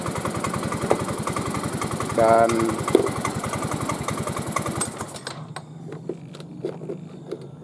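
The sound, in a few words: Yamaha Mio M3 motorcycle engine running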